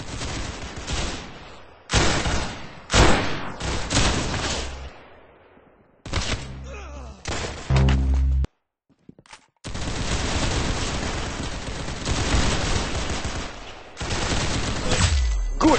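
Gunfire in the video game Arsenal, with bursts of loud shots and rapid firing broken by short gaps and one near-silent pause, then a long sustained stretch of shooting, with no speech.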